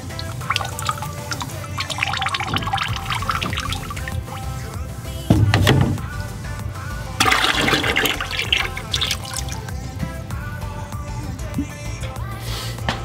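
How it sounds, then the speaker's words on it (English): Liquid glaze is poured into a clay mug, with splashing and trickling bursts of pouring and dripping over a busy background, one louder surge midway and another shortly after. "we would take a different glaze and pour it in there"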